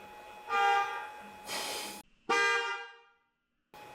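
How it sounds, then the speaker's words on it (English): A car horn sounds in three separate honks, each a short tonal blast, triggered remotely. Brief gaps fall between them, and the honks come through clearly with no one speaking. "Miko, can you honk the horn on my car?"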